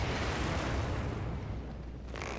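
Fire bombs blowing up barrels on the Stormveil cliffside in Elden Ring: a loud, close, continuous explosive roar with heavy low rumble that holds steady, then eases slightly near the end, with no voices.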